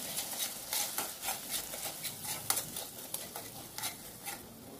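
A spoon stirs onion, tomato, chilli powder and turmeric in a pan for dal khichdi, giving quiet rhythmic scrapes and soft clinks over a faint sizzle, close and without speech.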